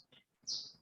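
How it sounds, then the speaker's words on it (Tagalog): A bird gives a few faint, high chirps in quick succession, short and somewhat distant against a quiet background. "So yung ibon na to ay"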